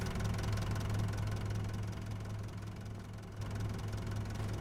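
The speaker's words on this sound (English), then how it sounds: "Oh, started the engine." A farm vehicle's engine in Farming Simulator 25 runs with a steady low rumble and knocking idle throughout, dipping slightly in the middle before picking back up, with no talking.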